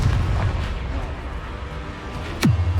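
A Confringo spell in Hogwarts Legacy lands as one sharp, booming blast near the end, over a low rumbling game background with no talk.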